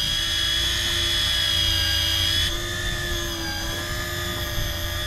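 Electric fishing reels whine steadily while winding line up from around 400 feet during deep-drop tilefishing on a boat, a loud continuous motorized drone whose pitch shifts slightly midway, with no talking.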